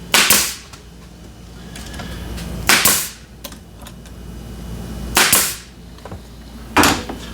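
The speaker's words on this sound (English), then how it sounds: "So I'm just going to start gluing and nailing them down." A pneumatic brad nailer drives 1.5 inch brads into wood during a gluing and nailing woodworking build, firing four sharp, loud, close shots at uneven intervals with quiet handling noise in between.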